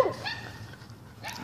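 Dogs at a neighbor's home give a few brief barks and yips, one short burst at the start and another near the end, fairly faint against a quiet background.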